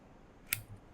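A single quick snip of scissors cutting a cotton wick on a single-coil RDA squonk build for a mech mod, close and crisp in an otherwise quiet setting.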